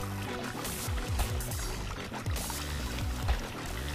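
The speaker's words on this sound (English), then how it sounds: "Okay, I think that's a waterfall." Cartoonish rushing water of a waterfall in the Roblox canoe game, a steady broad wash mixed with busy game music and bouncing effect sounds throughout.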